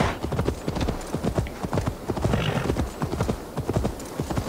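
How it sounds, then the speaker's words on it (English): Rhythmic clip-clop of horse hooves climbing a steep hill in the video game Assassin's Creed Valhalla, an even, steady beat of footfalls at moderate volume, with a brief snort or whinny partway through. "I do hate how slow the horse goes up a hill."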